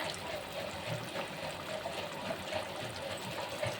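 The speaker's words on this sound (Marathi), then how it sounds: "तुम्हाला जर घट्टपणा जाणवत असेल तर थोडंसं पाणी टाकू शकता" Water trickles and pours softly in a steady low stream into chickpea curry (chole) as it cooks, faint and continuous with no talking over it.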